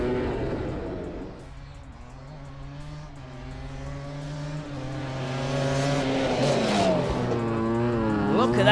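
Honda ATC and Yamaha Tri-Z three-wheelers racing off the start on dirt, their buzzing engines revving and climbing in pitch, growing louder toward the end.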